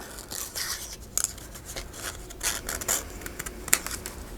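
Scissors snipping through patterned Valentine paper during fussy cutting for tag cards, a soft run of quiet crisp snips and rustles at close range with no voices.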